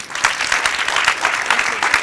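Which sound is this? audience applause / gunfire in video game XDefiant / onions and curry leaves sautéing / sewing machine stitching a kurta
audience applause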